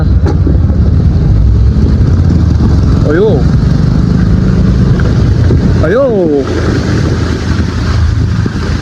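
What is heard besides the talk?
vehicles driving through a flooded road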